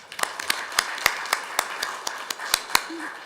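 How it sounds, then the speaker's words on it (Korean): Sparse, distinct claps ring out at the close of a panel discussion forum, a dozen or so sharp hand claps in a loose, uneven rhythm over a quiet room, fairly close and moderately loud. "박수로서 저는 이렇게 감사 인사에 대답하고 싶습니다."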